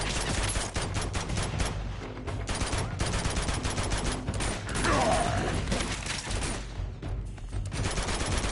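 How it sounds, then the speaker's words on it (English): Dense, continuous gunfire fills a chaotic Uncharted 2 firefight, with overlapping bursts and mechanical clatter sustained throughout at a steady loud level. "Just keep shooting."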